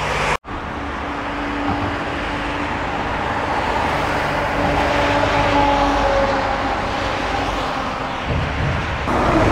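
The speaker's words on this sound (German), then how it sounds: "Ja, der Verkehr hier, ne, der ist natürlich grauenhaft, ja?" Loud, steady road traffic roaring past on a busy street in Duisburg in the early morning, a dense continuous rumble of passing vehicles with no speech.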